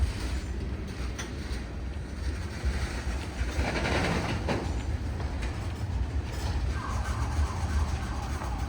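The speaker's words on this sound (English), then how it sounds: "There's another train coming." A Union Pacific or BNSF freight train rolls past on the rails with a steady, loud rumble and faint wheel clatter that lasts throughout, heard from close by the track.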